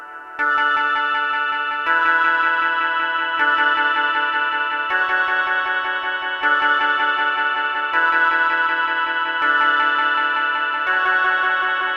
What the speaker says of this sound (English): look what happens when now I start adding reverb to it